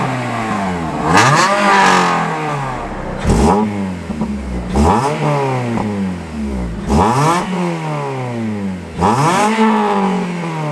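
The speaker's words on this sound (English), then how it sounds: "I'm gonna warm up the car, then once it's warmed up, I'm gonna give you guys some revolutions" A Honda Civic Type R FN2 fitted with a Scorpion exhaust revs repeatedly, about five loud rising-and-falling revs in a regular rhythm, close by with no talk.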